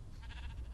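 A sheep bleats once in a Minecraft game, a short, quiet, slightly wavering cry over a steady low background hum.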